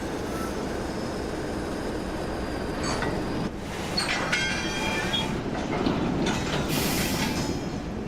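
Train carriages roll along rails on the Woodhead line in Train Simulator Classic, a steady rumble with faint wheel squeal and occasional clicks, while a voice talks over it.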